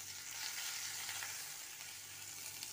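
Curry leaves hiss and sizzle in hot oil with crackled cumin seeds, a dense steady frying crackle close up with no talking.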